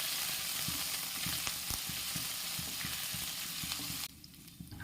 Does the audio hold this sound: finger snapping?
no